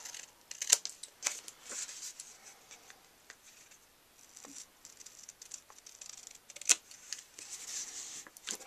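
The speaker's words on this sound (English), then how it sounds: "Let me just grab my little snips here now, and we're just going to trim" Quiet, close snipping of small snips trimming paper card for a wedding card, a scattered series of light crisp cuts and rustles.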